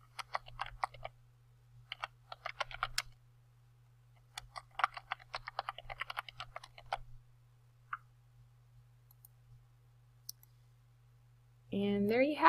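Quiet typing on a computer keyboard while working in Photoshop, appearing as two short bursts of clicky keystrokes with a steady low hum underneath, followed by a brief louder sound at the end.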